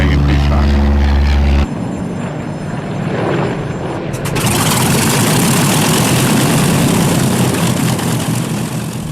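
1943 propeller trainer aircraft at an airshow, its engine droning loud and close with a strong low throbbing hum, swelling into a broad roar as it passes.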